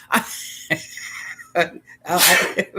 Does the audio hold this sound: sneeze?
yes